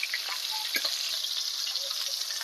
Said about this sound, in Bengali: এবার নুন হলুদ মেখে রাখা চিংড়ি মাছটাকে ভেজে নেব